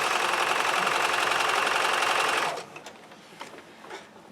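Sewing machine stitching a paper-pieced Monkey Wrench quilt block, a rapid even mechanical whir for about two and a half seconds before stopping, followed by faint handling clicks.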